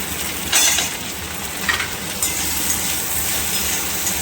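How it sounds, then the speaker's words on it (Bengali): Okra fries in oil with salt and turmeric, a constant close sizzle broken by a few louder spatters and stirring scrapes, with no talking. "নুন দেবো, একটু নুন আর হলুদ দিয়ে ঢেঁড়সটা ভেজে নেবো আমি।"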